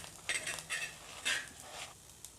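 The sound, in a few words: stirring chopped shallots and cumin in a clay pan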